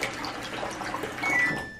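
A Samsung Active Wash washer's built-in rinse sink filling with water, a steady close hiss of running water with a thin high whine rising near the end before it tapers off.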